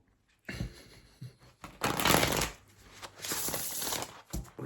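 Oracle cards being shuffled by hand in a few bursts of riffling and sliding, close and moderately loud, separated by short quiet gaps and soft taps.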